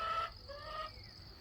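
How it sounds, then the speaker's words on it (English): A chicken gives a short, loud squawk followed by a second, fainter squawk, close by against a low background hum. "there's Ern squawking again."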